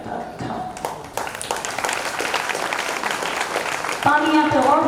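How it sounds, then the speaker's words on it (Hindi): Audience applause at a Jain religious discourse given by a nun in India, a thick, fairly steady patter of many hands clapping, with a voice speaking over it near the end. "तालियां तो और जोर से बजा दो"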